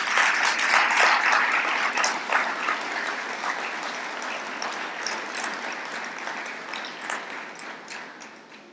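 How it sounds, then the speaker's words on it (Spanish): A church congregation applauds for Jesus, full sustained clapping that swells at once and then slowly tapers off, with no voices over it. "Dale un aplauso a Jesús."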